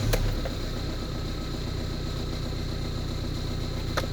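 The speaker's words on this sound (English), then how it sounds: "so I can now get out of the car whilst the engine's running" A Ford Transit Connect engine idles steadily with a faint tapping fault, producing a low, even hum with a constant rhythm, quiet and close, with two brief clicks near the start and end.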